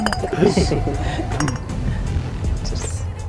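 Glasses clink together in a bright toast, a few quick chimes near the start while people talk around them.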